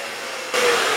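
A Festool Domino joiner starts up about halfway through, its steady high-pitched motor whine jumping to full loud level as it cuts a mortise in a wooden drawer board, with no talking.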